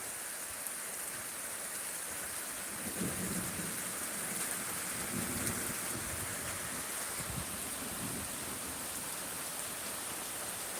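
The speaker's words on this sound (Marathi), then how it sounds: "जोरात पाऊस चालू आहे" Heavy monsoon rain pours steadily over farmland, a dense even hiss of downpour with low rumbles of thunder rolling in the background.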